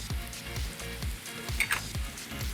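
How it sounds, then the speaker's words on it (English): Ground coriander, cumin, turmeric and cayenne toast in a hot pan with a steady, close sizzle and crackle, broken by a few stirring scrapes, with no voices. "we're gonna add in all of our spices and just toast them up until they're a little bit fragrant"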